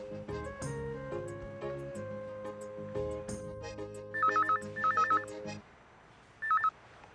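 An electronic telephone ringtone trills in three short bursts near the end, after soft background music fades; the rings are clear and close, with a pause before the last one.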